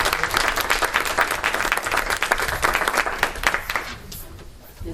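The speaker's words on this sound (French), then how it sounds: "Je pense qu'on peut les applaudir." A room full of people at a municipal council meeting applauding, steady dense clapping that carries on for several seconds before thinning out slightly toward the end.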